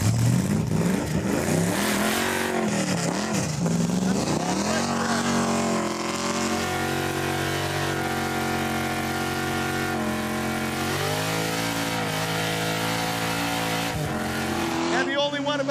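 A loud drag car engine revs and roars at launch, brake-dragging, its pitch sweeping up and down repeatedly before settling into a sustained high-powered drone.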